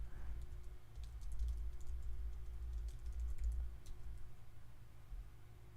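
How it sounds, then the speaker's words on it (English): Light keyboard typing clicks patter faintly over a steady low hum, continuous and fairly distant. "He's still typing."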